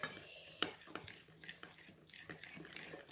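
A spoon mixes flour for a ginger and cinnamon cake in a bowl, giving faint, soft scraping and a few light clinks against the dish, quiet and close, with no voices.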